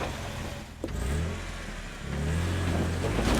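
A Jeep Wrangler JK on 33-inch tires grinds up rocks while rock crawling, its engine droning low and then rising in a steady rev toward the end, fairly close.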